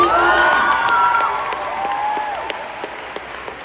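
A crowd applauds and cheers, with a few whoops and shouts rising over steady clapping that gradually thins out.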